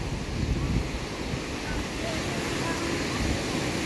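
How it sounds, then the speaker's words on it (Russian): Steady wash of Baltic Sea surf rolling continuously at Zelenogradsk, mixed with low wind rumble against the microphone, no distinct breaks between waves. "море шумит тут."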